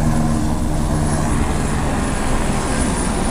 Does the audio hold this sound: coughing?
no